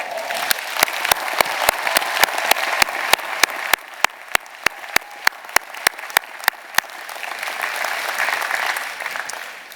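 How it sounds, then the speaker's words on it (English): A university commencement audience claps, a dense wash of applause with a sharp regular series of loud percussive beats cutting through, then the clapping swells and carries on alone at the end. "please join me in thanking them with a big round of applause"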